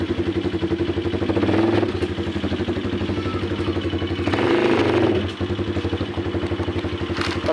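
A black Gamma motorcycle's engine runs steadily close by, its low rhythmic thrum briefly swelling twice as if revved, with no talk over it.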